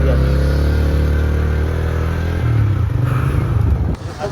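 A motorbike near Diveagar beach, its engine loud and close with a steady throbbing note that shifts pitch as it revs and moves past.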